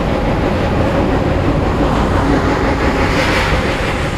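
A loud, continuous hiss and roar of water spray pounds against the muddy roof of an off-road vehicle being washed, steady and close throughout.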